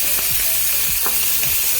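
Prawns frying in hot oil give a loud, steady, close sizzle with a few soft stirring knocks, and no voices over it.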